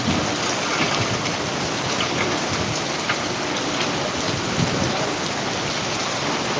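Heavy monsoon-style downpour in Jamkandorna, Gujarat, pours steadily, a dense, continuous hiss of drops hitting surfaces, close and loud with no pauses or voices.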